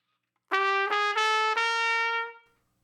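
A short jazz lick played on a single wind instrument, four connected notes with clear attacks, the last one held and then cut off, loud and close with no talking.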